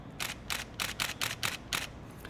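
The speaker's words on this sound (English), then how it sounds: "Like this is the D810 shutter." Repeated shutter releases of a Nikon D810 DSLR, seven soft, cushioned clicks fired in a quick, slightly uneven sequence, close and clear.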